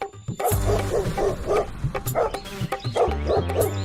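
A cartoon dog barks repeatedly, loud and close, in a quick run of deep woofs with short yelps mixed in.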